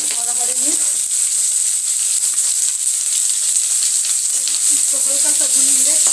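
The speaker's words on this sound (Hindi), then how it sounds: "इसको हल्का सा भूनेंगे ताकि प्याज नरम हो जाए" Chopped onions, garlic, ginger and green chilli sizzle steadily in hot oil with cumin, a continuous close frying hiss with occasional stirring clinks and no talk.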